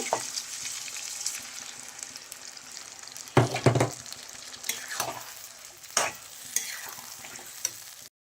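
Spices frying in a pan with tomato and sour yogurt for butter chicken, a steady close sizzle broken by louder scraping stirs around the middle and later in the clip.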